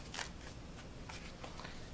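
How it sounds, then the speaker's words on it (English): A deck of tarot cards is shuffled close up, with a few quick riffling bursts separated by quieter rustling. "I don't want to be talking too much while shuffling."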